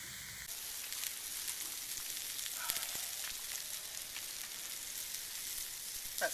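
Burgers sizzle and fry on a cheap Chinese wood gas stove outdoors in a British woodland, a steady bright crackling hiss that runs close and even throughout with small pops and no talk.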